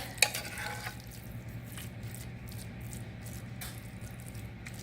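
Ground beef goes into a skillet beside vegetables for shepherd's pie, a faint, steady sizzle with a brief clatter at the start and no talk.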